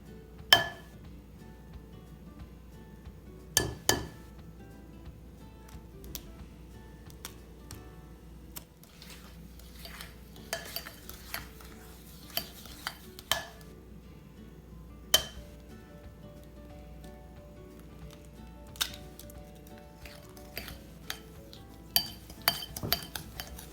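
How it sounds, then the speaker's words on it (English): Eggs cracked one at a time into cookie dough in a home kitchen, heard as scattered sharp taps and clinks of shell against a bowl with soft squishy handling in between, fairly quiet and close. "Let's crack these eggs."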